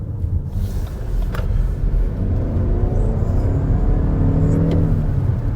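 Lexus NX 450h+ plug-in hybrid SUV accelerating, a steady low road and drivetrain rumble with rising whir heard from inside the cabin, continuous and fairly loud with no talking.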